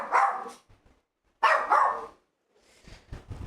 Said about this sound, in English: I wish my dog would shut up.